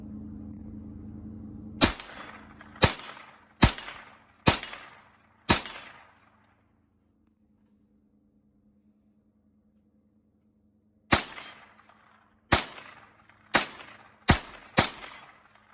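Marlin and Ruger .22 rifles fired at a 30-yard target outdoors, with two series of five sharp cracks, each one ringing out briefly and the two strings separated by a long quiet gap.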